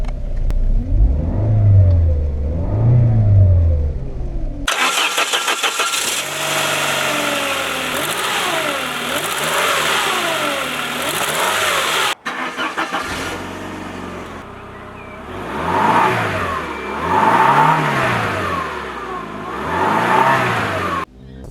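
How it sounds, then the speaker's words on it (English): A liftback car's engine starts and then revs repeatedly in rising and falling bursts, heard close up at the engine bay and again at the exhaust, loud and with no talking. "Let me start the car and quickly show you the engine bay, followed by some exhaust sound."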